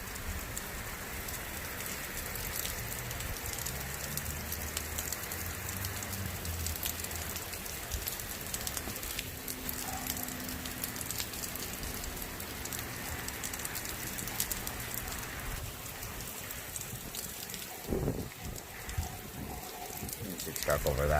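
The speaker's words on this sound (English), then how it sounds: "And it's raining heavily now." Heavy rain pours steadily during a non-severe thunderstorm, a dense continuous hiss of drops on surfaces close by, with a few louder knocks and splashes near the end.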